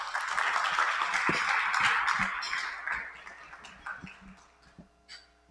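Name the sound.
welcoming applause from audience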